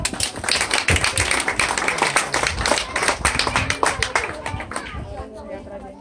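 Lively applause at a Mother's Day celebration before a clown show, brisk uneven clapping from a small nearby crowd with scattered chatter and voices mixed in, fading toward the end.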